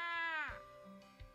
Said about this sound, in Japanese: ドアくぐって飼い猫のトラミがやってきた